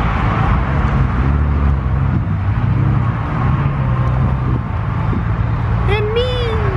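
Honda NSX sports car pulling into a car meet, a close low engine rumble with some revving among surrounding crowd noise, voices talking over it and a short whoop near the end.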